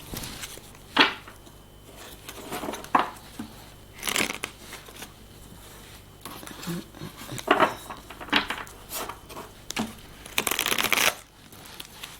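Tarot cards are shuffled at close range in repeated quick riffling bursts, each a crisp papery flutter, separated by short quieter gaps.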